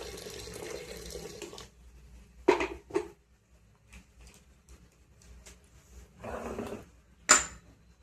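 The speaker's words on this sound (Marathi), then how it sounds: "याच्यामध्ये घालूया थोडं पाणी, ऑलरेडी केलेलंच आहे गरम पाणी" Hot water pours in short bursts, splashing into a metal vessel, with quiet pauses between pours and a few light clanks.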